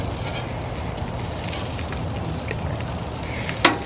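Salmon fillets sear and sizzle in a hot pan in a steady, close frying hiss, with a short sharp clatter near the end as the fish is flipped.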